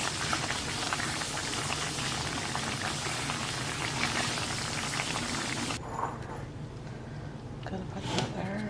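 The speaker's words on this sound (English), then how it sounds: "we're gonna bring it to a quick boil, just like right to the boil" A pot of curry cauliflower kale soup bubbling at a rolling boil, a steady dense hiss and burble that runs close and loud for several seconds before dropping to quieter scattered bubbling.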